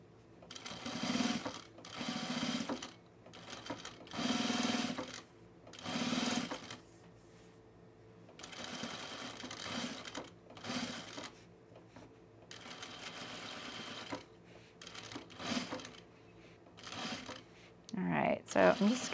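A sewing machine runs a seam with piping on a baby bag in repeated bursts of rapid stitching, each a few seconds long with short pauses between, close and fairly loud.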